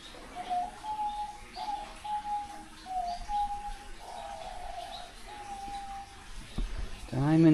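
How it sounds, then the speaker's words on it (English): Diamond doves and other small birds in a seaside sanctuary aviary coo in a run of soft, repeated notes, with faint chirps and nearby voices talking over them. "it's the doves cooing at the top there, aren't they?"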